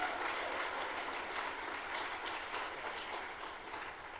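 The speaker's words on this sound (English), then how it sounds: "Let's practice a round of applause." An audience claps together in a practice round of applause at a demo day event, a dense steady roar of many hands that stays loud and even throughout, tapering only slightly at the end.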